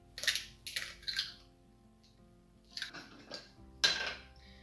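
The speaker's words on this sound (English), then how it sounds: "crack in an egg" An egg cracked against a bowl in the kitchen, with a few quick taps and a shell crunch, then a sharper crack near the end; quiet and close, no talking.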